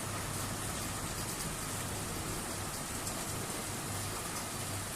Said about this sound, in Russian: Вот и град.